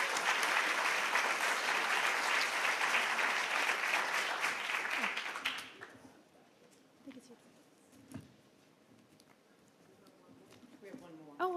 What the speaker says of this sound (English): how about one more round of applause for our champions?